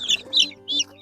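Chickens kept for meat cluck close by during midday farm chores, making three short, loud bursts of clucking with brief pauses between them.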